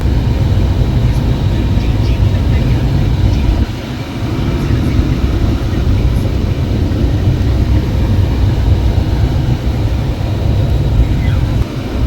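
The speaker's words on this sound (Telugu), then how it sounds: "ట్రైన్ ఎక్కేసిన." Loud, steady low rumble inside a train carriage on the way to Kolkata, a continuous rolling roar with a brief dip partway through and faint clicks on top.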